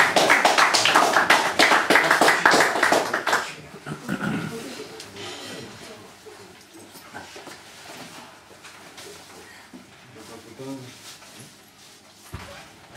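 Crowd at a small rock gig clapping to welcome back the band, a short burst of applause that fades after a few seconds into quieter room noise and scattered sounds.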